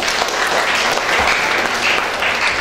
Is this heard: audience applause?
yes